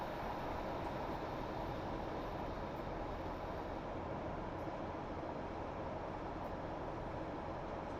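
A train coasting with the throttle off in a train simulator on the Huddersfield line, a steady low rumble of wheels on rail with faint rhythmic clicks, unbroken and fairly quiet.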